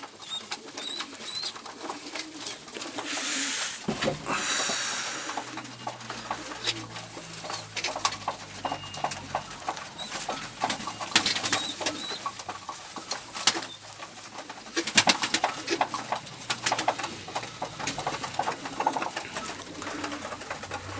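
Pigeons and doves coo steadily during an evening bird feeding, a soft continuous chorus with occasional wing flutters and pattering, close by, with a brief voice near the start.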